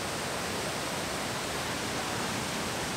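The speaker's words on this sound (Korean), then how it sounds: "마치 세상의 온갖 시름을 삼킬 듯 우렁찬 폭포 소리에 시간이 가는 것도 잊었다" Datanla Falls in Da Lat, Vietnam, roars in a steady, dense rush of falling water, loud and unbroken throughout.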